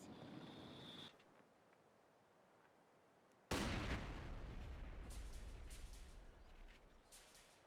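Mortar fire in a real-time strategy game match: a quiet stretch, then a sudden loud explosive boom that rolls on into sustained rumbling and crackling battle noise, with no talking.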